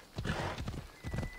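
Horse hooves clip-clopping in the video game Assassin's Creed Odyssey, three quick clusters of close, moderately loud hoofbeats in an uneven gallop rhythm with no talk over them.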